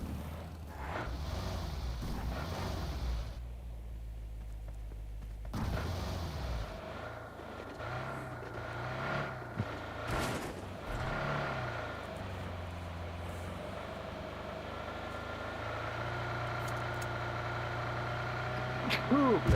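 A car engine in the PUBG Mobile video game drones as the vehicle drives, with its pitch rising and falling as it speeds up and shifts, steady through most of the stretch and no speech over it.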